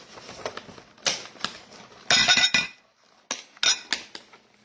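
Eggs, both white and brown, cracked against a bowl or counter while preparing meals in a home kitchen: several sharp, close taps and cracks spaced irregularly, with short bursts of shell clatter and no talking.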